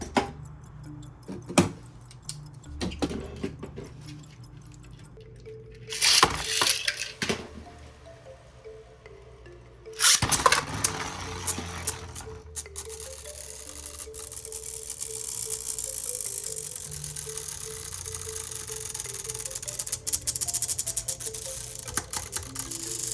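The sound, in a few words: Beyblade spinning tops battling, Lucifer vs King Helios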